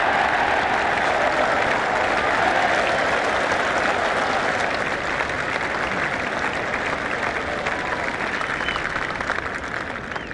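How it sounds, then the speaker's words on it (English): Steady crowd applause in the cricket game Brian Lara Cricket 99 fills the whole stretch as a dismissed batsman walks off, a dense wash of clapping that holds loud and even, fading only slightly toward the end. "He's getting a polite round of applause as he makes his way to the pavilion."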